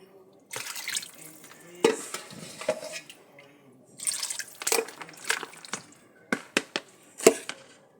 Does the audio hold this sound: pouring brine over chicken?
yes